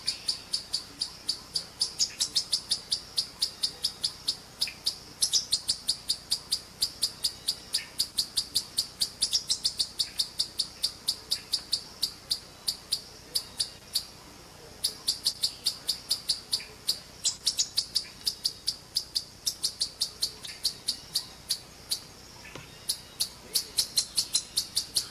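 An animal recorded in Kandy gives rapid, high, evenly repeated chirps that run in long steady series with brief pauses. It is fairly faint and stands alone.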